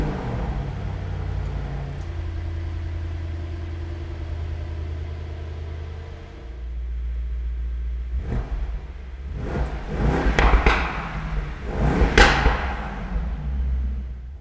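A Mercedes-AMG engine fires up with its emotion start, a steady idle rumble giving way to sharp, loud revving bursts close by, with no one talking.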